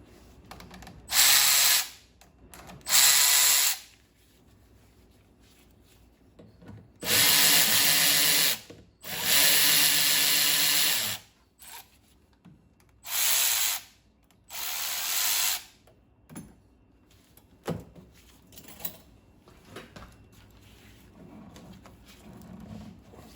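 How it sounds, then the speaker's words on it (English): A power tool runs in several separate bursts, close and loud, with quiet gaps between them, while work goes on loosening the exhaust elbows on a Mercruiser 260 V8 boat engine in a bass boat. "Get my ratchet and my 5/16" socket."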